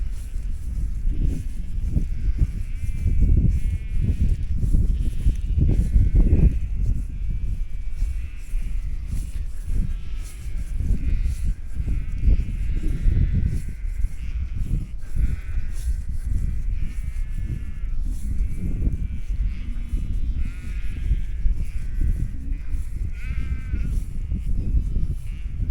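A mob of sheep on an Australian farm bleating continuously, many overlapping calls near and far in irregular bursts over a steady ambient background, with no talking.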